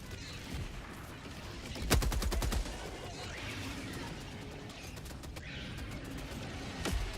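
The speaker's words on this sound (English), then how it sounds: "Love the machine gun, same." Gunfire in a zombie-survival style video game: a loud burst of rapid machine-gun shots, then steady game ambience with voices talking, and another sharp report near the end.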